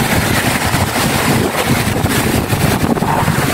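Loud surf washing continuously near the shore at Tolosa, Leyte, in the Philippines, with heavy wind buffeting the microphone throughout.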